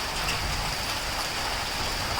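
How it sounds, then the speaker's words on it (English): Steady rain mixed with sleet and ice pellets falls on a cold day in Palpa, Nepal, a dense, even hiss of drops hitting surfaces with no break and no voices. "It's cold and it's rain over here."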